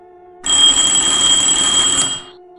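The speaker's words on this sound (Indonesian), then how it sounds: "Suara alarm nyaring terdengar di handphone miliknya" A phone alarm rings out shrill and loud, a steady high electronic tone that starts abruptly, holds for about a second and a half, then stops, with no voices.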